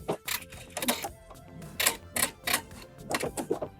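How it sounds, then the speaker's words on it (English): Sewing machine stitching a garment lining, a quiet, close run of rapid clattering needle bursts in short irregular spurts with brief pauses between. "Now it's all pinned up and I'm going to sew it together."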